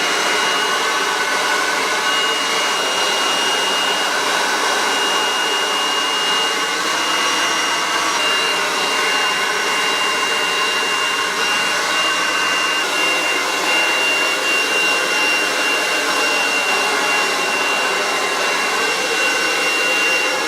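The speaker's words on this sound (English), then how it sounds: "I literally just sort of twirl my hair up at the front of it and dry it in that way." A hair dryer blows at close range while hair is twirled around a spiky round brush, making a loud, continuous whooshing roar with a thin high whine that stays unchanged throughout, with no speech.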